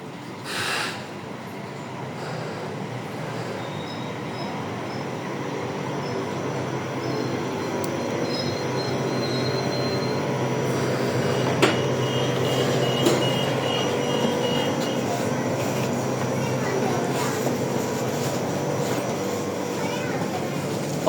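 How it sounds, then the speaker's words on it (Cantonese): A one-car Hong Kong Light Rail route 751 train bound for Tin Yat pulls into platform 7, a steady rolling rumble with faint wheel squeal and brief high tones, while voices murmur nearby. "A one-car Route 751 train to Tin Yat is arriving at platform 7."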